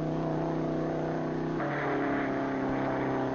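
A 1952 hot rod race car roars at full speed through a timing trap near 6,500 rpm, its steady, loud engine drone shifting pitch partway through as it passes, with no talk.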